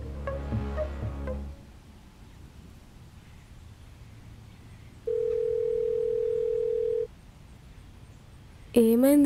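A phone call rings out unanswered: one long ringback tone plays alone in a quiet room, then stops. Voices come before it and a short electronic tone follows.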